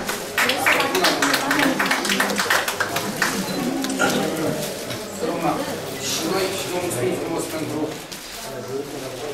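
Crowd applause for an honoured elderly woman at a municipal award ceremony for seniors, a dense steady patter of many hands lasting several seconds and fading slightly at the end, with a voice talking over it.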